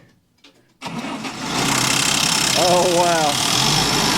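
A 125 horsepower International 1086 tractor that sat all winter cranks and fires up, settling into a loud, steady diesel rumble close by, with a brief voice reacting over the engine.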